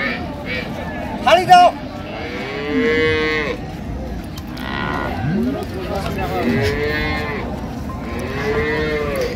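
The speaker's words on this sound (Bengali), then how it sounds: "ষাঁড় বাচ্চা" Cattle at the Raniganj market in Dinajpur moo repeatedly and loudly at close range, long drawn-out lows from a young bull calf among dairy cows, with people talking and crowd babble around them.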